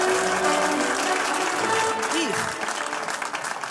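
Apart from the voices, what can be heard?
audience applause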